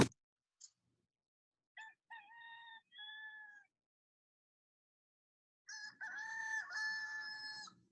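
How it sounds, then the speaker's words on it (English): A recorded rooster crows in several drawn-out calls, first a few short bursts and then a longer, louder crow near the end, played back outdoors in a backyard bird setting with quiet gaps between calls. "We're going to play you a rooster crowing and see if you're going to answer"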